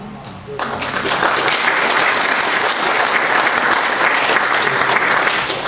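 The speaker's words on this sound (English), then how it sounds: "You don't have to clap after each one, or after any of them." Listeners at a poetry reading break into clapping after a poem, starting abruptly and continuing as a full, steady burst of hand claps through to the end.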